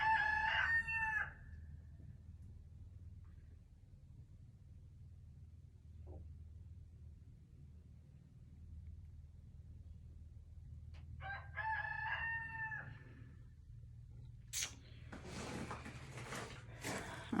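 A rooster crows in a greenhouse, two clear full crows a few seconds apart, close and loud over a steady low hum, with some rustling and clatter near the end.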